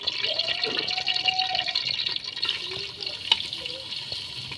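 Onions added to a hot pot for aloo gosht sizzle and fry with a steady, close hiss and occasional small pops and spits.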